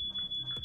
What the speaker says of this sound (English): Another fire alarm going off.